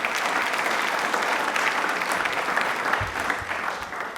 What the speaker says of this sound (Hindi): एक बार तालियां जोरदार हो जाएं प्लीज।